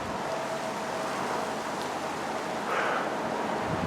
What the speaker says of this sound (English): I'm trying to wait out this rain.